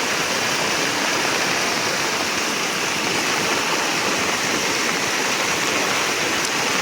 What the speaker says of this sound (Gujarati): અત્યારે વરસાદ તો ચાલુ જ છે